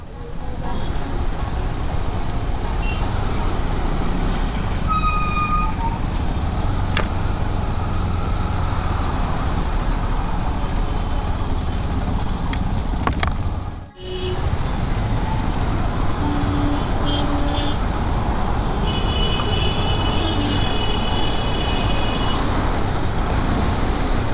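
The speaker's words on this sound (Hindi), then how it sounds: "मुझे तो आज लग रहा है रोज़ से ज़्यादा ट्रैफिक है" Heavy road traffic at the Tiger Nagar junction in Vikhroli, Mumbai, where metro works narrow the roads, makes a continuous roar of cars, buses and trucks with scattered horn tones and a brief dip partway through.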